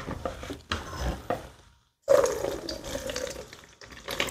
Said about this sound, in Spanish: Y ahora la vamos a pasar por el colador.